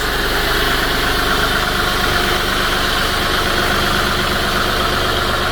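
A VW Polo 1.2 TD diesel engine runs steadily and loudly as the car reverses out, giving a constant close rumble with no talking over it.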